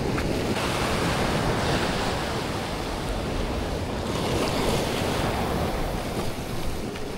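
Strong sea waves and wind around a small fishing boat, a constant loud roar of surf with gusting wind buffeting the microphone, no voices.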